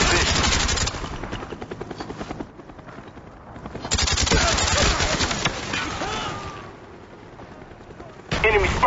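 An attack helicopter killstreak in Call of Duty Black Ops multiplayer roars on, with heavy rotor drone mixed with bursts of rapid machine-gun fire and game voice callouts.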